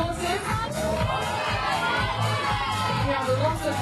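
A loud crowd cheers and shouts for a climber at a beach games bouldering final, sustained high-pitched yelling and whooping throughout with a low rumble beneath.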